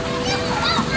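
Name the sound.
children splashing and bathing in water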